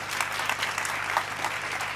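An audience at a Hindi comic poetry gathering claps in a dense, continuous burst of many hands. The applause stays steady and fairly close, with no talking over it.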